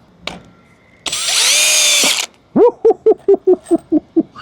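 A FLEX hammer drill drives a screw at speed 2. A short click comes first, then a loud whirring burst for about a second. After that comes a rapid series of rhythmic ratcheting bursts as the screw seats, with no talking.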